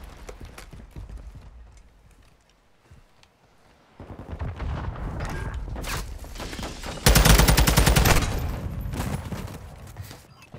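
Gunfire in a first-person shooter video game: sparse, distant shots early, then denser, louder bursts of rapid fire building toward a loud volley near the end.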